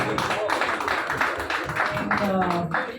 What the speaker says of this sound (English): So big round of applause to him.